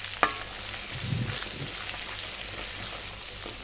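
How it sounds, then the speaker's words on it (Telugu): Curry leaves and paste frying in hot oil for chicken pickle, a soft steady sizzle with one sharp clink at the start, close and fairly quiet. "కరివేపాకు కూడా ఒక 2-3 మినిట్స్ ఫ్రై అయిన తర్వాత"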